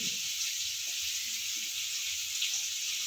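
Potatoes fry in mustard oil in a pan, giving a quiet, even, bright sizzling hiss that holds steady with no breaks and no speech.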